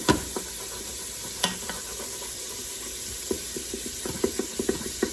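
Sausage sizzles in an Instant Pot while a utensil stirs it against the bottom, giving a steady close frying hiss broken by scattered scraping clicks, with no speech.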